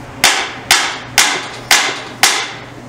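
Five sharp, evenly spaced hammer blows ring out on a Greeves Anglian motorcycle part being knocked loose, each a loud close metallic strike with a brief decay.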